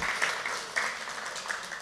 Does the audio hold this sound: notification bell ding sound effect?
no